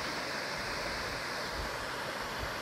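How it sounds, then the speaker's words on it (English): Steady, full rushing roar of a waterfall just off Forest Road 23, close and unbroken from start to finish, with no voices. "So further exploration on Forest Road 23 has brought us by this beautiful waterfall just off the road."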